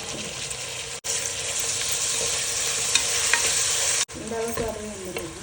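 Coriander rice masala frying in a pan and stirred, a loud steady sizzle close by with scraping stir strokes, briefly broken by two short cut-offs.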